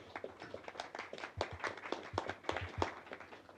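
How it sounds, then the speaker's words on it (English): Sparse clapping from a small audience at a summer school session, scattered individual hand claps rather than a full ovation, fairly faint and uneven over a few seconds. "Can we have a round of applause for her,"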